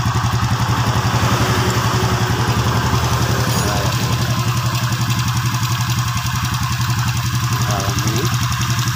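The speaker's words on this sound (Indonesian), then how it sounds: "sekarang mesin sudah hidup" A motorcycle engine idles nearby with a steady, loud, rapid chugging pulse and a slight knock, continuous throughout while someone talks briefly over it.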